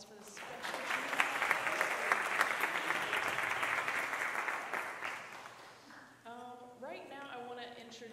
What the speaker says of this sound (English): can you give them a round of applause for this special piece?